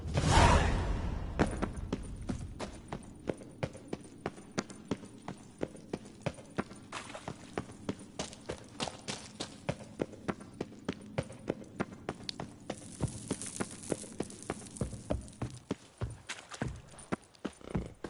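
A horse in the video game The Witcher 3 gallops in a steady, rapid clip-clop rhythm of hoofbeats that continues at an even pace for the whole stretch, with no other prominent sounds.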